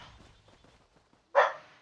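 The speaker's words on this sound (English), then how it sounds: "That's our dog." A single short, sharp dog bark sounds near the end of an otherwise quiet moment, close and fairly loud after faint background murmur.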